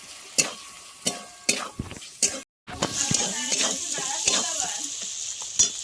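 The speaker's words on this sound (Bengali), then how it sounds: "এইভাবে আমি একটু ভেজে নেব" Spices and chili powder frying in oil for a coriander-leaf pickle, with close sizzling under repeated sharp scrapes and clinks of a stirring spoon against the pan, a short silent gap partway through.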